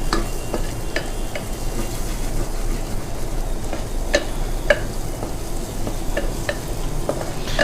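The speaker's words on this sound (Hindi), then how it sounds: "अब देखिए टमाटर भुन गया है," Chopped tomatoes fry in a pan for a jackfruit masala dum biryani, giving a loud, steady sizzle broken by repeated sharp scraping clicks as a spoon stirs them, with no talk.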